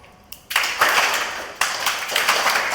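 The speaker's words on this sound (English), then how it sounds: "I'll snap once, you'll clap once. I'll snap twice, you will clap twice." An audience at a Toastmasters club meeting claps in unison: two sharp bursts of group clapping, each ringing on briefly, close and fairly loud.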